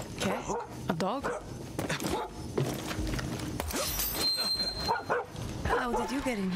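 In the video game Far Cry 6 on Xbox Series X, a dog barks, yips and whimpers amid game sound effects, with voices talking over it.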